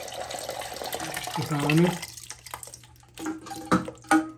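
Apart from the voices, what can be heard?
water flowing out of Kohler toilet after pulling out flow valve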